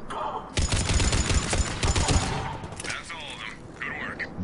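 Rifle gunfire from the video game Mass Effect 3 rattles out in a dense burst of sharp shots, followed by quieter mechanical and electronic game effects while someone speaks over it.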